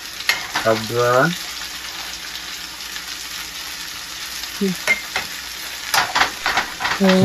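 Onions fry in a pan with green chillies and ginger, giving a steady close sizzle with occasional stirring scrapes. Short bursts of a voice come in near the start, around the middle and at the end.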